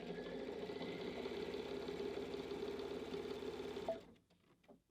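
A Brother sewing machine fitted with a MuVit dual feed foot running a straight stitch, a fast even mechanical whirr close up that stops abruptly near the end, leaving near silence.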